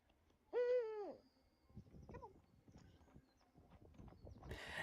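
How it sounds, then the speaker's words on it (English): Owls call in the distance: one clear, loud, wavering hoot, followed by a shorter, fainter call, set against quiet rustling and scattered soft knocks. "Here are adorable owls."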